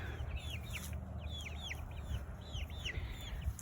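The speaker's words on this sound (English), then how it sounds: "I've got 4 little barred rocks, a little Rhode Island red, and 2 silver laced Wyandottes." Young chickens, four barred rocks, a Rhode Island Red and two silver laced Wyandottes, give a run of repeated high peeping clucks close by over a steady low outdoor hum.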